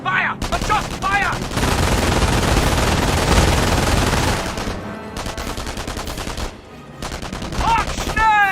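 Sustained, dense machine-gun and rifle fire pours from a World War II battle video game, loud and nearly continuous, with brief pauses. Shouted voices break in near the start and end.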